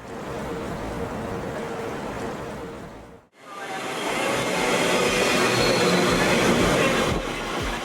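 A London Underground train heading toward Piccadilly Circus rumbles loudly and steadily from onboard, with a brief sudden dip partway through, then a stronger roar and a few wheel clacks near the end.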